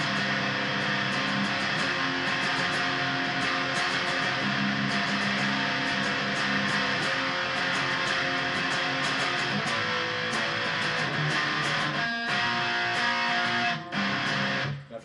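Heavily distorted electric guitar power chords chugging continuously and loud with a thick, saturated wall of sound, brief dropouts near the end, no voices.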